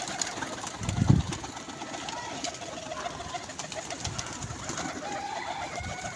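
Pigeons coo in a pigeon keeper's loft, low murmuring calls, one fuller coo early on, set against a steady noisy background with no clear talk.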